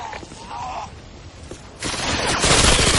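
Rapid gunfire from a weapon in a first-person shooter video game, bursts building into loud sustained firing near the end, layered over game sound effects.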